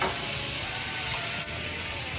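Browned meat sizzles hard in a hot pan as liquid is added to deglaze it. The hiss is loud, close and steady, with a brief dip near the end.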